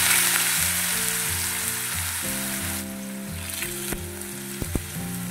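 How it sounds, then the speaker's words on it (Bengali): Sliced potatoes fry in a pan in a home kitchen, a steady loud sizzle of hot oil running throughout, broken near the end by a few sharp clinks and scrapes. "একটু ঝুড়ি ঝুড়ি করে আলু ভাজা করব"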